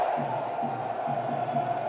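A football stadium crowd at a Sheffield Wednesday versus Millwall match keeps up a steady roar with a rhythmic chant pulsing through it, broad and distant, under a commentator's talk.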